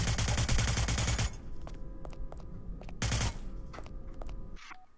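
AK rifle gunfire in the video game Hitman: Blood Money: dense, continuous bursts of automatic fire, a pause filled with scattered clicks and metallic clatter, then another short burst, loud throughout and with no voices.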